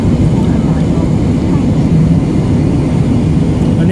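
Steady, loud engine drone fills an airplane cabin in flight, a continuous low roar with no breaks. Someone speaks over it.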